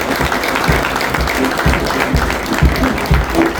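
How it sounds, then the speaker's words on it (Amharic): Church congregation applauding a student who placed first at an award ceremony: loud, close, continuous clapping from a crowd with some heavier hand thumps, steady throughout. "እስኪ አጨብጭቡላት።"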